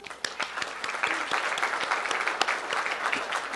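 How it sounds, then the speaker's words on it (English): Audience applause at a fundraising gala, dense steady clapping from a large crowd filling the room, loud and sustained for several seconds without talk. "Give yourselves a hand."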